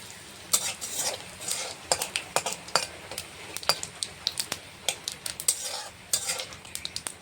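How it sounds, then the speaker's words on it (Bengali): Bay leaf, dry red chilli and whole cumin sizzle in hot oil left from frying katla fish, a soft crackle running under frequent sharp clicks of a metal spatula against the pan. "এখন ফোড়নে দেব তেজপাতা, শুকনো লঙ্কা, গোটা জিরে।"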